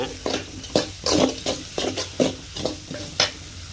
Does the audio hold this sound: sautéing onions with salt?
yes